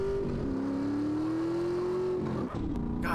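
A car engine in Grand Theft Auto: San Andreas - The Definitive Edition, a steady rising whine as it accelerates smoothly for a few seconds, then a brief shift and a muffled thump at the end.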